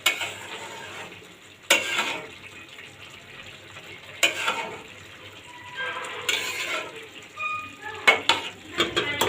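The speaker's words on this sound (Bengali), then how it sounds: "কাঁচামরিচ দিয়ে আমি একটু নেড়ে চেড়ে আবার ঢেকে আবার 10 মিনিটের জন্য রেখে দিব।" Khichuri with green chillies being stirred in a pot, a spoon scraping and clinking against the metal in a few distinct strokes over a soft background sizzle, close and fairly quiet.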